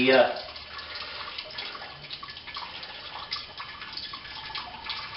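Liquid trickles and drips steadily from a grain bag into a pot during home brewing, a soft continuous watery patter heard close and fairly quiet.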